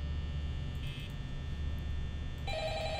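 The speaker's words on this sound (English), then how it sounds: "Oh, there's a phone call guy." An old telephone rings inside the Five Nights at Freddy's video game, brief electronic bell tones sounding over a steady low game hum with no voices.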